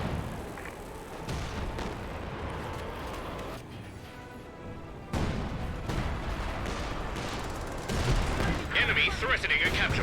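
Concentrated artillery fire in Company of Heroes 2, with repeated booming impacts and gunfire crackle in a dense battle mix, plus a sharper burst near the end, while a commentator talks throughout.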